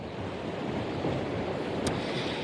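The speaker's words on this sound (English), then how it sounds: "as you can tell, it's extremely windy" Strong wind from Tropical Storm Debby at Myrtle Beach, a loud, constant roar buffeting the microphone and mixed with surf, steady from start to finish.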